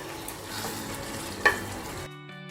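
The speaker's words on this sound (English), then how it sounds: "Then I just stir." Pureed green vegetables and diced onions stirred in a hot pan, a soft scraping stir over a quiet steady sizzle, with one sharper clink of the utensil before the sound cuts off.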